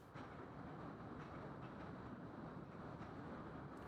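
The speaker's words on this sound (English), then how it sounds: "I felt the foreshadowing rumble of the train." A distant train rumbles low and steady as it approaches in the video game I Was The Cat, faint and unbroken, with no voices over it.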